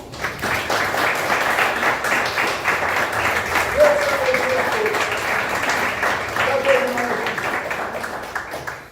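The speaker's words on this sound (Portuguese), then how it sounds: "Vamos dar uma salva de palmas, Senhor" A church congregation claps steadily through a Portuguese-language service, the dense applause broken by a couple of brief whistles or voice tones.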